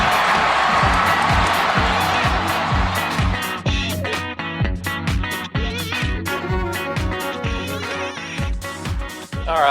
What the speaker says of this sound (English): I love that ovation every week hearing the Dixie Football Fanatics crowd noise